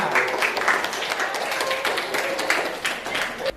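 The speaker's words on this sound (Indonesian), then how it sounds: "tepuk tangan buat kita semua" Participants at an Indonesian teacher-training workshop clap together after a group game, a dense, even patter of hands lasting throughout with a few voices mixed in.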